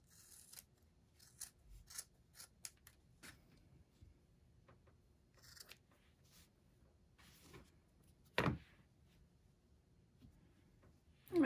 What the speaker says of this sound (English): now we're just going to trim the long excess hairs